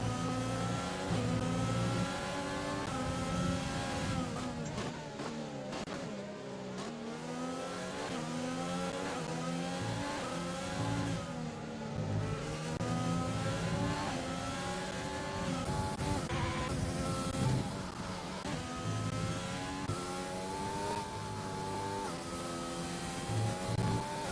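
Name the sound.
F1 race cars speeding down the straight in a racing video game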